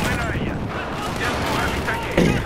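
Battlefield 4 combat erupts with a dense wash of gunfire and explosions, continuous and loud, beneath a player's excited talk and a sharp burst near the end.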